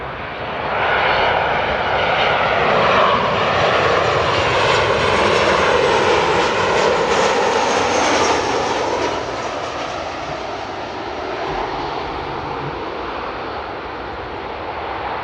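An airliner lands at Amsterdam airport, its jet engines roaring loudly as it flares and touches down, then the noise eases into a lower, steadier rumble as it rolls out, with no talk over it.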